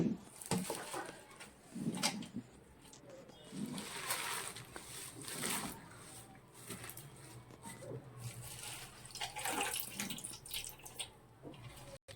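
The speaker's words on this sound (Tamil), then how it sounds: "இப்போ தோராயமாக நான் தண்ணி ஊற்றுறேன்" Water poured by the tumbler into a pot of cooking arai keerai greens with turmeric for a Tamil kulambu, a soft continuous splashing and trickling that comes in several uneven surges over about twelve seconds, fairly faint and close.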